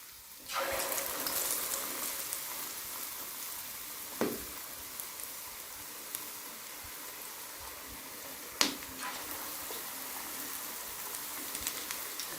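Green chili pakoras frying in hot oil, a steady close sizzle with sparse sharp pops and crackles throughout.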